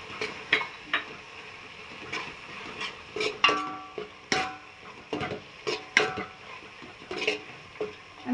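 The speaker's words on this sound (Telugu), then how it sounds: "ఇప్పుడు ఇందులో బొరుగులు వేసుకొని కలుపుకుందాం." Puffed rice upma (ugane) is stirred in a pan, a close series of irregular scrapes and sharp metallic clinks from the spoon against the pan, with quieter gaps between strokes.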